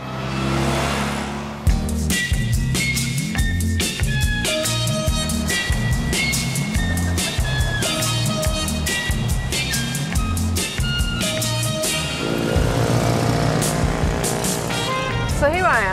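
A classic Fiat 500 (Cinquecento) with a 479 cc engine drones noisily while driving through London, a rough, steady putter with rhythmic shifts in pitch as it accelerates and changes gear.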